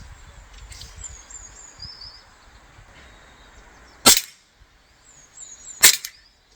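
Two sharp, close metallic clacks, spaced nearly two seconds apart, come from an ASG CZ75 BB pistol as its slide cocks with the magazine inserted. A quiet background surrounds them.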